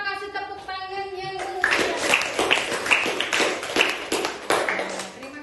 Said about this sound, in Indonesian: Kita kasih tepuk tangan yang